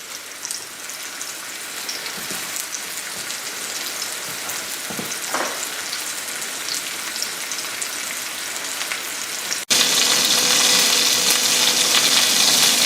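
Large chicken pieces frying in a pan for chicken piccata, a steady close sizzle with occasional crackles that jumps louder and brighter near the end.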